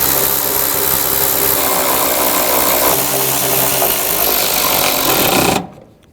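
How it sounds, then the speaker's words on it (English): A power tool runs loudly and continuously, with a buzzing mechanical whir, as it tightens the nuts on a tail light of a 2009-2010 BMW 535i xDrive, then cuts off abruptly near the end, leaving near silence. "Now we'll tighten these down."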